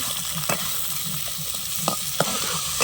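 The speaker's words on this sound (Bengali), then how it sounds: "পেঁয়াজটা ভেজে নেব। চিংড়ি মাছটা দিলাম, নদীর চিংড়ি বন্ধুরা, বড় বড়" Onion and large river prawns fry in a pan, giving a constant close sizzle broken by several sharp scrapes and knocks of a stirring utensil.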